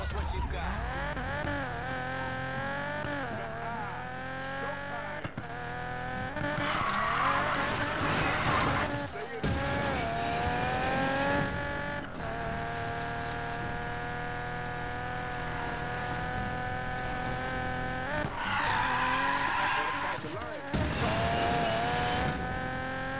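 Continuous drifting car with squealing tires in the racing game Need for Speed Payback, a sustained engine whine that rises and falls through gear changes, with a player talking over it.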